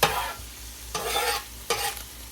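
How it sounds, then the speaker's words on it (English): Ground beef and onions sizzle on a flat griddle as a metal spatula scrapes and tosses them in three quick bursts, close and loud with steady frying underneath. "tossing the meat and the onions together"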